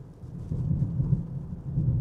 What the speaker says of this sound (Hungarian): Elég nagy eső volt időközben.